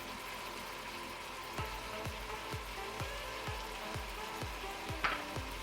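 Chicken and carrots browning in a Cookeo multicooker set to its browning mode, giving a continuous close sizzle and fry broken by a regular series of soft stirring knocks.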